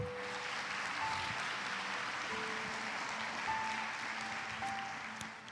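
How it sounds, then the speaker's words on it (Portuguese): Catholic congregation applauding the word of God after a scripture reading, a steady diffuse wash of clapping heard from a distance with sustained tones from instruments underneath. "Beija sua Bíblia e aplauda a palavra de Deus."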